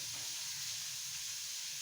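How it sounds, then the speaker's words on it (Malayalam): Ghee goes into a hot pan and gives off a soft, steady hiss that holds even throughout, quiet and unbroken. "ചൂടായ ചട്ടിയിലേക്ക് നെയ്യിടാം."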